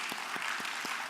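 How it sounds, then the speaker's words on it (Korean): A church congregation applauding during a Wednesday service, soft and fairly distant, with a few louder claps standing out from a steady patter. "자, 박수해 드리십시다"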